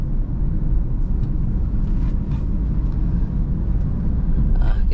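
Pickup truck engine in third gear, a steady low rumble from inside the cab with constant road and drivetrain noise and no clear shifts or revving.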